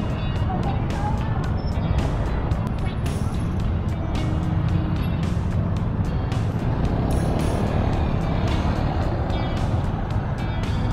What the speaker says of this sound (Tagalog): Ang taas ang traffic, ah.